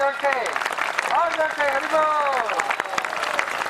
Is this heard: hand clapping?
yes